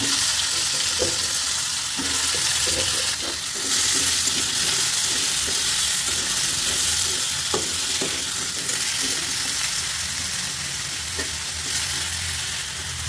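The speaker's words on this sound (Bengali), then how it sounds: "তেল দিয়ে দিলাম কড়াইতে, দিয়ে দেবো আলু আর বেগুন" Potato and eggplant frying in oil in a wok crackle and sizzle loudly and steadily at close range, broken by repeated scraping stir strokes through the pan.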